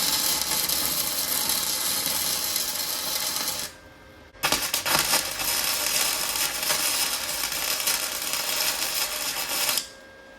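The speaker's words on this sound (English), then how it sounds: "I've got one side prepped and ready to weld." Welding a prepped seat bracket for a power driver's seat from a SAAB fitted into a 1981 Jeep CJ-5, loud harsh crackling and buzzing arc in two long bursts split by a short pause, ending abruptly.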